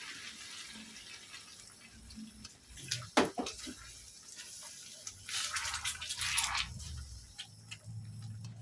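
Water poured into a cooking pot, a short splashing stream that swells then fades, with small clinks and kitchen noise around it.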